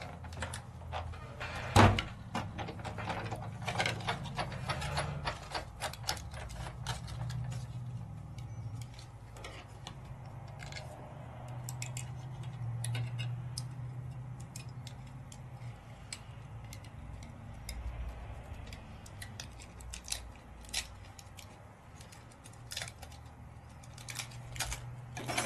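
A die-cutting machine cranking paper through its rollers and back, producing a long run of quiet, rapid clicking and ratcheting ticks with steady mechanical motion and no talking.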